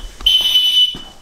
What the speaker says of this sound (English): you still have the alarms again